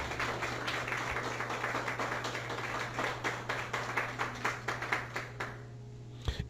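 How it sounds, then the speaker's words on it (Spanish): A church congregation claps along in a steady, rhythmic beat for about five seconds at moderate loudness over a low organ-like hum, then the clapping fades out into near silence. "Dale ese aplauso al Señor."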